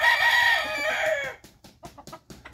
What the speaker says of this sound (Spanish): El gallito va platicando con uno, escúchalo.